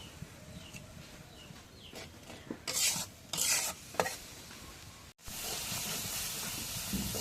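Spice paste being stir-fried in a pan for a potato curry, with scraping stirs and a steady hiss of sizzling oil that swells louder near the end.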